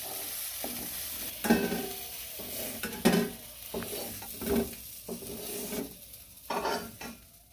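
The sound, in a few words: lemons sautéing in a pan for pickle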